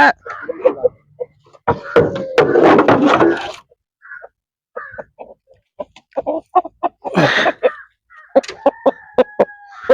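Three roosters in a cage cluck and crow in short bursts, close and loud, with brief gaps between calls.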